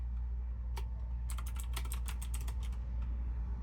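Quick bursts of keystrokes on a computer keyboard, a single tap followed by a rapid run of clicks that trails off, close and quiet over a steady low hum.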